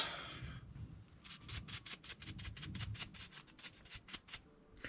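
Sand being brushed or rubbed off a Traxxas Velineon brushless motor from a Rustler 4x4 VXL RC car, a close, steady scratchy scrubbing with quick repeated strokes throughout.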